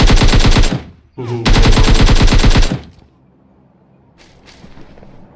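Rapid automatic gunfire bursts from a battle royale shooter match, a long loud volley, a short gap, then a second sustained burst, followed by fainter distant shots.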